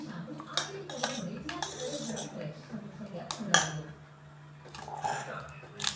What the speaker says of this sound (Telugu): బాగా మిక్స్ చేసుకోవాలి ఫ్రెండ్స్.